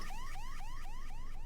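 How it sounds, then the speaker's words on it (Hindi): An alarm goes off after smoke triggers it, sounding as a loud repeating electronic warble of rising sweeps, about four per second, steady and alone. "फायर अलार्म बज रहा है"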